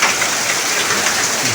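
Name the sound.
heavy rain in rural village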